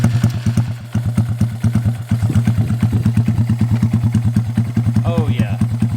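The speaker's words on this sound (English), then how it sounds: "let's let the bike warm up," A 2022 Honda Grom motorcycle idles while warming up, a loud, close, steady single-cylinder putter with even rapid pulses throughout, and a voice talks briefly over it near the end.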